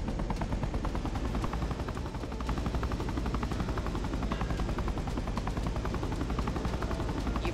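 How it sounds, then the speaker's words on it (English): A helicopter flies in the zombie shooter ZOZ: Final Hour, with a steady, dense rotor chop and engine roar filling the whole stretch at an even, continuous level. "steer the chopper to the glowing circle up ahead"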